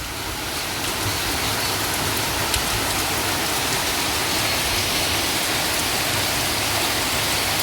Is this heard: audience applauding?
no